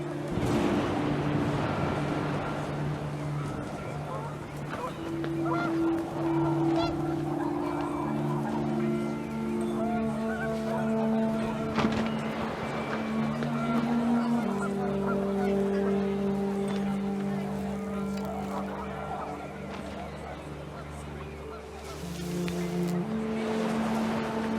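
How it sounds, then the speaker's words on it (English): Panicked geese honk in the video game What Remains of Edith Finch, repeated calls rising over steady wind and a low rumble, fairly loud and continuous throughout. "The wind picked up, and panicked geese appeared and quickly went."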